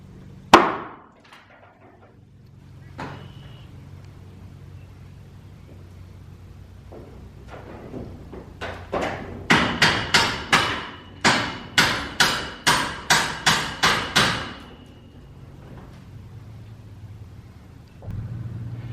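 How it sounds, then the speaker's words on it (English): A jack lifts a sagging roof rafter in a house under repair, giving a regular series of about a dozen sharp, ringing metallic strokes in the middle of the clip, with a few isolated knocks before them. "jack that up so it's level with that so I can sister the rafter"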